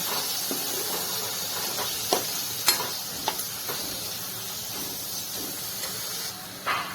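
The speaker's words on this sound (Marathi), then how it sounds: "मीडियम गॅसवर असं चांगलं तळून घ्यायचं तेल सुटेपर्यंत" Tomato and masala frying in oil over a medium gas flame, a steady close sizzle throughout with a few soft scrapes and taps of a spoon stirring the pan.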